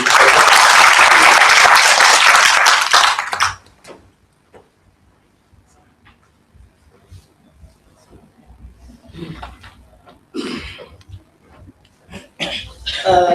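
Applause from the audience at a shareholders' AGM welcoming the CEO, a loud dense burst lasting about three seconds that cuts off abruptly, leaving quiet room noise and a few faint sounds afterward.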